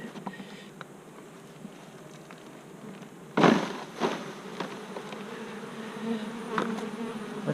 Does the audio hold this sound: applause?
no